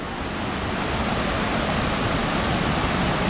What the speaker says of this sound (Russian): очень мощный водопад.